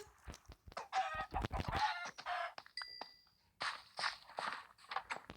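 Minecraft chicken clucks in short bursts, mixed with footsteps and a brief chime, fairly quiet and close.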